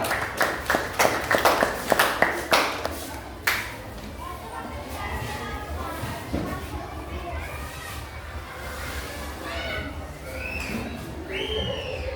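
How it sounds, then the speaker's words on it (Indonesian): Classroom applause for students: a short burst of claps from a group of children in the opening seconds, fading into chatter and room noise. "Berikan aplaus kepada mereka."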